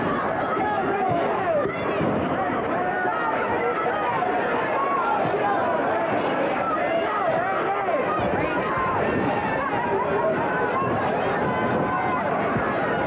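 A packed wrestling arena crowd at a Memphis TV match roars and chatters continuously, a dense, loud wall of cheering and babble that never lets up.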